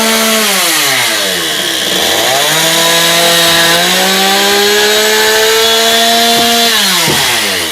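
Chainsaw-like power saw cutting through a timber board while building a one-storey house from 9x10 beams, its engine note steady and loud, dipping and rising as the blade bites, then cutting off near the end.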